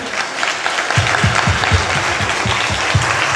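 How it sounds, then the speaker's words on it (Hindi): A congregation at a church service claps loudly with both hands raised, a thick wash of applause over a steady rhythmic low thumping beat. "एक अच्छी ताली, दोनों हाथ उठाकर।"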